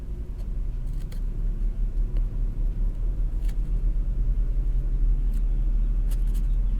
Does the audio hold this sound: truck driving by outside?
yes